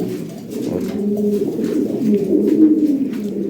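Lahori Sirazi pigeons coo in a low, rolling, continuous murmur, close and fairly loud, several birds overlapping with no talk.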